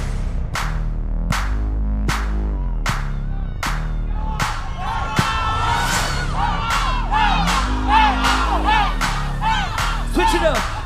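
A large concert crowd at CottonFest 2022 cheers and shouts continuously while rhythmic claps beat steadily, the noise swelling louder and more excited toward the end.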